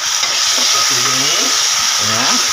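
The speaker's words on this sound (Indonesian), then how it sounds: "Ini bawang bombay yang kita iris, kita masuk lagi. Nah, ini kita tumis." Sliced onions being sautéed with spices in a pan for Batak-style soy-sauce pork give off a loud, hissing sizzle close by, with a voice speaking over it in the middle.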